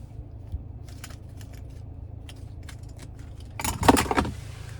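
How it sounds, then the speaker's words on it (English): The key fob of a 2026 Ford Maverick Lobo: faint scattered taps and clicks over a low steady hum, then a louder burst of keys jangling near the end. "Finally, here is the key fob."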